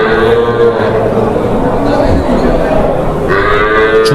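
Cows mooing at a weekly cattle market in Krosuru, low drawn-out calls rising over a steady crowd murmur, with people chattering nearby throughout.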